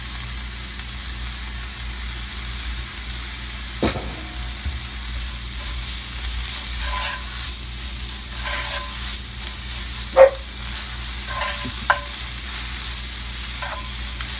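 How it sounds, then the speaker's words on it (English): Stinging nettles frying in a pan with butter and garlic, a steady soft sizzle throughout, broken by occasional utensil clinks and stirring scrapes against the pan. "Alright, so we got our nettles. We'll add them into the pan."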